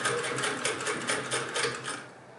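A 1926 Singer 99 hand-crank sewing machine runs up close, producing a loud, rhythmic mechanical clatter with regular pulses as the crank turns, heard alone without talking.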